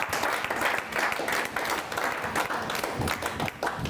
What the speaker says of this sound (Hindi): भाई विनीत चौहान का हम तालियों के साथ स्वागत करें